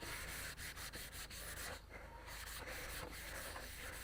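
Steady rhythmic scratching of sandpaper rubbing back and forth over hardened body filler, close up, continuous strokes with no voices.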